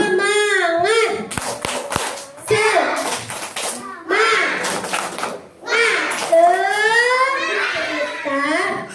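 Young children clap in rhythm while chanting a group cheer in a classroom-style storytelling session, their voices bright and close with several sharp claps mixed in.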